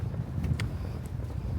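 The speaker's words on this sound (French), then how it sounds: "Tellement il y a du vent." Strong wind on a beach buffets the microphone in a continuous low roar, with a few faint gusty rustles on top.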